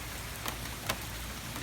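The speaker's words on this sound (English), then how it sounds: "Pouring rain, late August 2020," Pouring rain in a Michigan backyard in late August, a dense, steady hiss of heavy rainfall on surfaces with a couple of brief louder drip splashes, heard close and alone.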